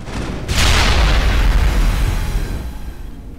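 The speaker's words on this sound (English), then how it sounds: "Here's a grenade." A single loud grenade blast in the Mass Effect video game, a sudden booming burst followed by a long rumbling decay that fades over a few seconds, with no talking.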